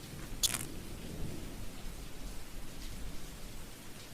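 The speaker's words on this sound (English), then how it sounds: "That doesn't sound like light rain. Sounds like a damn monsoon." Heavy rain pours in a steady, dense hiss like a monsoon downpour, with a brief sharp crackle near the start and a continuous low rumble underneath.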